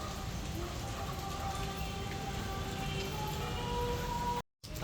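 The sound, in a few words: heavy rain falling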